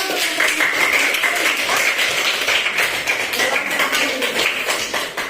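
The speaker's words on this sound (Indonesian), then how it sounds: "Oke, tepuk tangan juga ya." Applause in a classroom during a science lesson, a dense patter of many hands clapping together that runs steadily and near, easing off slightly at the end.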